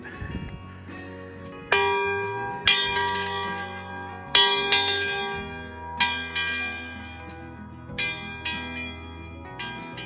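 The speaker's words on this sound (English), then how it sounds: "There's a bell up here. I wonder if anybody ever rings it." A large bell at Castillo de San Esteban, a castle along the Camino, rings in several resonant strikes spaced about two seconds apart, each leaving a long shimmering decay that overlaps the next, with no talk.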